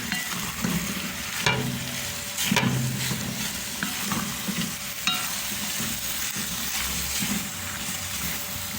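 Spoon stirring potato and chickpea curry in a pot, with scraping strokes and soft thumps over a steady sizzle, close up and without talking.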